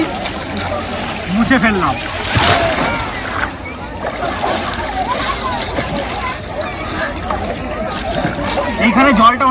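A pilgrim bathes in the water at Gangasagar during the Mela, with steady sloshing and splashing close by under a speaking voice and the bustle of other bathers.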